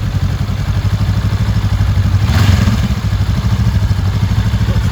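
A Honda CB500X motorcycle idles close by, its exhaust putting out a steady, rapid low-pitched throb with a brief louder swell midway.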